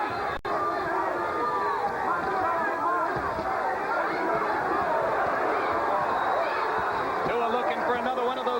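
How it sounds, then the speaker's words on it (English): A boxing crowd at the David Tua versus Ike Ibeabuchi fight roars and chants continuously throughout, a dense, loud arena din with rhythmic voices rising out of the babble. "Crowd chanting, Tua, Tua, Tua."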